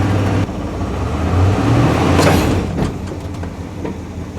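Engine of a 1979 Dodge Van on cruise control with its wheels in the air, a loud close drone that surges as it speeds up, then settles.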